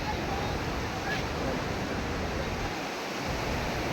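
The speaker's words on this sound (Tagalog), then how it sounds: "yung ingay ng tubig, malakas yung kuwan mga guys." Steady broadband roar of ocean waves and surf at a beach resort in Labason, Zamboanga del Norte, loud and continuous throughout, with wind-like noise and no clear breaks.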